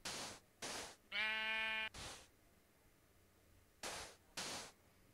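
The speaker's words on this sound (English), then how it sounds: "Just gonna kill the sheep." Sheep being killed in Minecraft: several short, close bursts of hit noise around a single strained bleat, then two more hits after a pause, with no talk.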